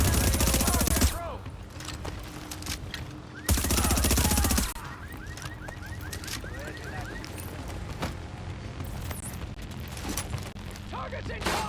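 Heavy automatic gunfire from The Division video game, loud sustained bursts opening and returning after a short lull, with continuous crackling shots and a voice calling out over the firefight.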